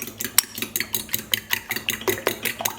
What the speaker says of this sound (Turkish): İçerisine birazcık tuz koyup yumurtayı iyice çırpıyorum